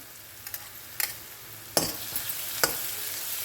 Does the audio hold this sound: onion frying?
yes